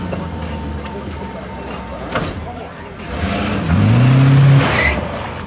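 A big old American car's engine rumbles nearby, rising into a louder rev partway through, with people talking over it.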